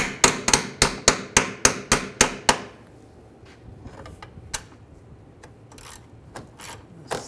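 Metal hammer striking a bolt into the lower control arm of a 2007-2013 BMW 328i, about nine sharp, evenly spaced taps in quick succession, followed by quieter scattered clinks and handling noises.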